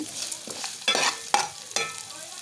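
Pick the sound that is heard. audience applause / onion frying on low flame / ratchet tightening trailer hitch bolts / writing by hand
onion frying on low flame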